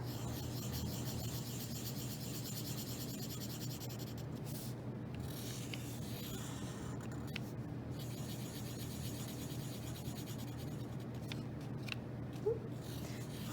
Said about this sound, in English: I'm going to draw my eyes on there